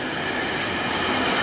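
An SBB Cargo freight train hauled by a Traxx locomotive rolls past carrying tank containers, producing a loud, continuous rumble and wheel noise close by with no voices.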